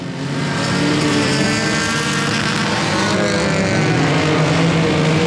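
Stock race cars roar around Timberline Speedway in a dense, continuous pack, engines loud and sustained throughout with no voices over them.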